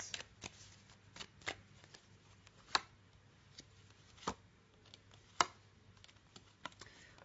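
Tarot cards being shuffled and drawn, a series of crisp, separate card snaps and riffles at an uneven pace, close and fairly quiet with no talk.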